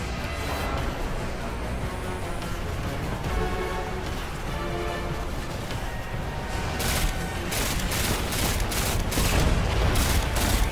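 Sustained gunfire in the video game Destiny 2 builds into dense, rapid bursts of shots. Sharp, distinct cracks cluster toward the end over a continuous loud rumble, with no pauses across the whole stretch.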